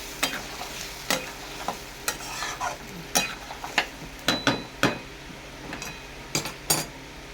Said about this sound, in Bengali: কষে নেবো মশলাটাকে দিয়েও আমি কষে নেবো এইভাবে